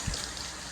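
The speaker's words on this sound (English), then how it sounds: "Alright, kitty, I'll fill up the water." Tap water pours briefly into a cat's water bowl, a soft low splash at the start settling into a quiet, steady trickle.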